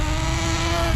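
Hobao Hyper SST RC car engine screaming at full throttle during break-in, running rich, a loud steady high-pitched whine with a rough buzzing edge, close and continuous.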